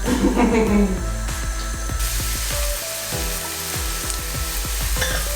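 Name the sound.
onion, garlic and shallots sauteing in a pan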